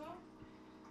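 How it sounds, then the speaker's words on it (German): A reverse osmosis water filter system gives off a faint, steady hiss in a home kitchen, low in the background beneath a voice. "das Wasser ist von der Osmoseanlage, deswegen hört ihr im Hintergrund dieses Rauschen."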